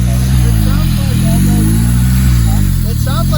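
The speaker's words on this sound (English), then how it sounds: "It just revs up so fast." A rear-wheel-drive Honda-powered car engine with 1000cc injectors and a blown-off vacuum line revs hard and loud, its pitch rising and falling in quick surges.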